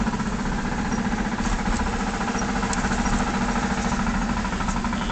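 A P38 Range Rover with a suspected rear differential fault, viscous coupling or rear driveline problem, giving a steady, loud mechanical drone with a rhythmic knocking hum that runs without a break.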